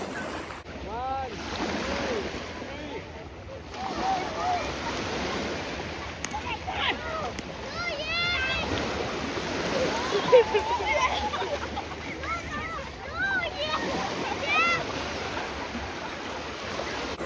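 Ocean waves breaking on a beach, a continuous broad roaring wash of surf with wind buffeting the microphone, while people talk over it in the foreground.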